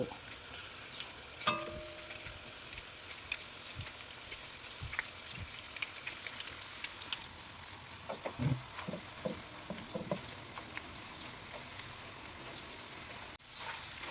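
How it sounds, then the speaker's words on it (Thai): Whole unpeeled bananas deep-fry in hot oil for crispy fried bananas, giving a steady, dense crackle and sizzle that continues throughout. Occasional soft clinks and stirring sounds come through close up, and no one speaks. "ทอดไปแบบนี้เรื่อยๆจนกว่ากล้วยจะหมด"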